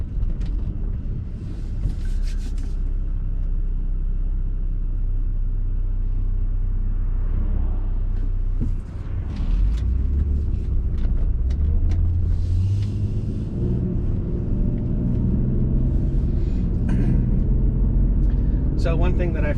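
A BMW wagon drives on the road on a cold 35-degree day. A steady low engine and road rumble fills the cabin, and the engine climbs in pitch as it accelerates partway through, with some talk inside.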